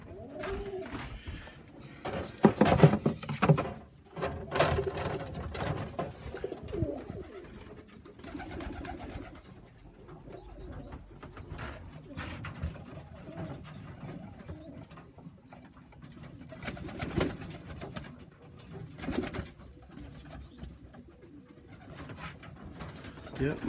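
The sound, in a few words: young pigeons cooing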